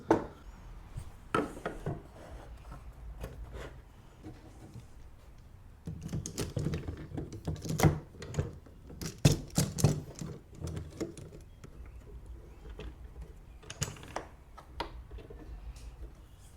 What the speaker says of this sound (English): I'm going to take this clamp. This is just a regular F-style clamp, and I'm going to clamp this into place.